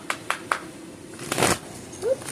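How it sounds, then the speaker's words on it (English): A deck of cards shuffled during a tarot-style reading, giving a few short riffling bursts near the mic followed by a longer flutter of cards, with faint handling sounds in between. "Let's shuffle here."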